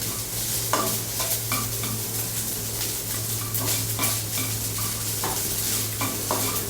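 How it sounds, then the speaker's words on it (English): Rice for Yang Chow fried rice is stir-fried in a hot wok with a loud, steady sizzle and repeated rhythmic scraping and tossing strokes of the spatula, close and continuous over a low steady hum. "Keep stirring and flipping so that every part of the rice will touch the hot surface of the pan."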